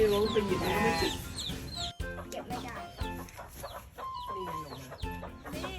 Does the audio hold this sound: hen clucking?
yes